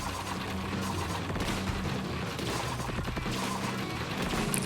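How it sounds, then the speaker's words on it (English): Explosher blasts burst in Splatoon's Salmon Run mode, sounding as a dense, continuous wash of crashes and booming splats layered over game audio, loud and unbroken with no one talking. "the Explosher's blast explodes on the grillers"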